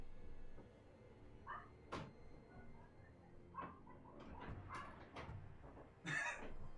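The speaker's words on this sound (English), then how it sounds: "just barking at our other dog" A dog grumbles and barks indoors at another dog, with a few scattered short woofs and scuffling sounds, fairly quiet and mixed with household noise.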